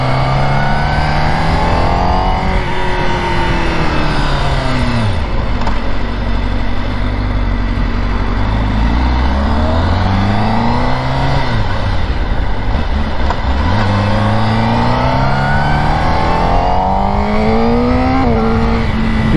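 A car engine revs and pulls through rising and falling gears while driving on a cool day, loud and close, with repeated acceleration sweeps and no talking.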